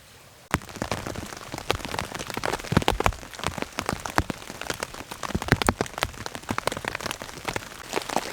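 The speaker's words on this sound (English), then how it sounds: "I am under the tarp and it is raining. It is raining pretty good." Heavy rain at night drums on a tarp overhead, starting abruptly and then keeping up a dense, close patter of loud individual drops over a steady wash, with cold wind in the setting.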